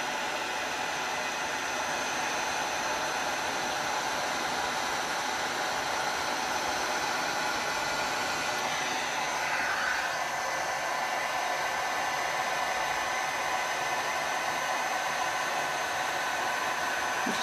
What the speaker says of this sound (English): Sorry if the heat gun's getting a little up close and personal.